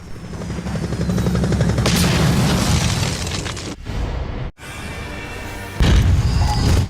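Heavy gunfire and booming blasts from a sniper strike fill a Gears of War 4 Horde match, loud and sustained, with a brief cutout and a renewed burst of explosive impacts near the end.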